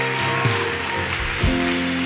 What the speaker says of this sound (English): Come on, clap like you have some energy right now.